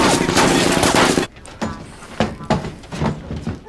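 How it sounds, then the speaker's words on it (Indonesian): Gunfire erupts in a shootout scene from the crime film Triple 9: a loud, dense burst of rapid shots gives way to scattered, separate cracks over a quieter background. "Namun gangster lainnya muncul dan aksi tembak-tembakan terjadi lagi."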